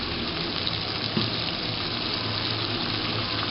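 Steady stream of water poured into a karahi pan while cooking brain masala, a continuous close rushing gush with no talk.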